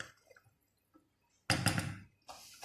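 Rice being stirred in a cooking pot: after near silence, a close, short burst of scraping and wet stirring, then a second briefer stir.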